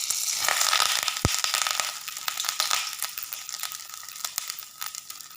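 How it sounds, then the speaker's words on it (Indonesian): Homemade vegetarian fish fries in a pan, a bright crackling sizzle with sharp pops that is loudest at first, then thins to scattered spits and crackles. "ikan vegetarian yang kita punya, kita akan goreng terlebih dahulu"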